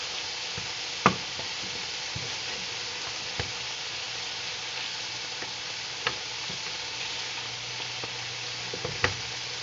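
Six pork chops sizzle across two frying pans, a steady broad hiss of frying with a few sharp knocks and taps of a utensil against the pan.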